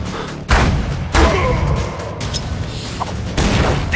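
Several heavy booming explosions hit one after another, loud and close, each trailing into rumbling debris, in the video game The Culling.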